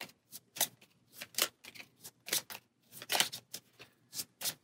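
Cards being shuffled back into a deck during a solo game of the Nemesis board game: a quick run of close, crisp riffling bursts in an uneven rhythm, with no voices.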